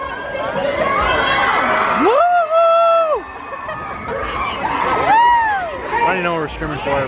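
Crowd at a convention center screaming and cheering, loud overlapping shrieks and rising whoops with babble and shouting between, close and energetic throughout.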